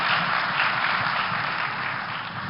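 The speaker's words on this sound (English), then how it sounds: "I think one more round of applause for Mr." Audience applause for N R Narayana Murthy at the Ideas of India Summit 2023, a steady dense wash of clapping from a large crowd that runs evenly throughout.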